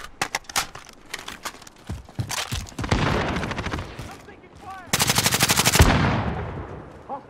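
Video game gunfire in Call of Duty: Modern Warfare multiplayer, loud bursts of automatic rifle fire and single shots in rapid rhythmic volleys, with a dense sustained stretch of shooting near the end.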